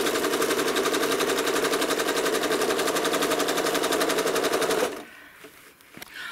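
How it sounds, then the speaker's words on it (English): A home sewing machine stitches a quilt, its loud, rapid, even mechanical chatter running for about five seconds before it stops abruptly, followed by quiet handling noises. "I want to continue stitching down the quilt."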